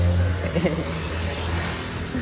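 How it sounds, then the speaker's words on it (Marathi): A Benelli motorcycle engine runs loud and close, a steady low throbbing drone with slight swells in intensity as it is revved. "बेनेली आवाजच आहे ना गाडी आवाज फुल लाऊड आहे"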